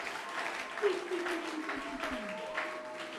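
A church congregation applauds, the clapping steady and moderately near, mixed with a sustained voice carried over the hands.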